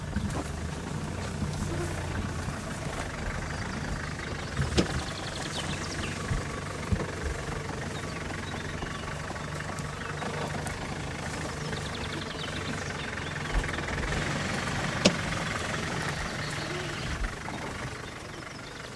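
A 4x4 engine runs at low, steady revs through a slow axle-crossing manoeuvre off-road, a continuous rumble with occasional knocks and creaks over the drone.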